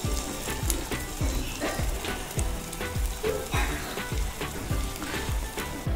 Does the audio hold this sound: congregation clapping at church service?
no